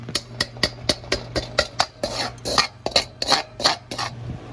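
Refining material is stirred in a metal container, a rapid run of sharp scraping clinks, about a dozen strokes in a steady rhythm, close and clear over a low fan hum.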